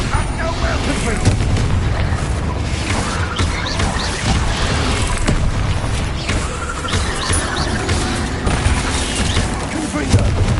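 Confringo blasting-curse explosions in the video game Hogwarts Legacy, loud booming blasts layered densely over constant battle noise, with a voice shouting spells throughout.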